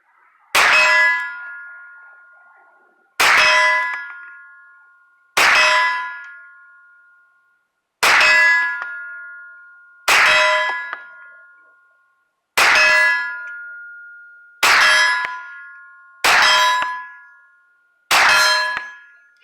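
Steel target being struck by bullets fired from a Ruger PC9 takedown carbine: nine sharp metallic clangs, each ringing out with a bright ring, spaced a couple of seconds apart and heard alone from a distance.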